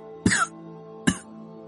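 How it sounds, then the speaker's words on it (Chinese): Two rough coughs from a man, close and distinct, the second following the first after a short pause. "李长寿又忍不住咳嗽两声"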